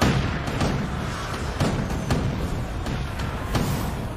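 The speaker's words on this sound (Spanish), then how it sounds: "Ok, esa explosión se ve bien." Cannon fire and explosions during a naval pirate battle in the 2005 film Piratas en el Callao, repeated heavy booms at irregular intervals over a dense, rumbling battle din.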